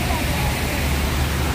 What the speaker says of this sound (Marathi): आणि हे डोंगराच्या वरतून हे खाली चालले पाणी एकदम सरळ.